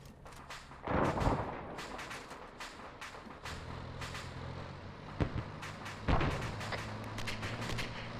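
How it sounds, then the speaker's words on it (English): Gunfire cracks and booms at long range in a military video game, roughly 600 meters away. A few muffled thumps and sharp reports rise over low rumbling ambience, with no one talking. "Based off of the sound of the gunfire, it's about 600 meters out."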